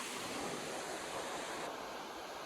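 Kalu waterfall at Malshej Ghat pours in a steady, dense roar of rushing water, loud and continuous with no pauses or voices.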